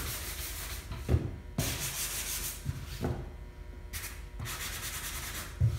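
Hand sanding of chalk-painted wood to distress the finish, a series of rough, rhythmic rubbing strokes in bursts with short gaps between them, close and clear, with a few small knocks.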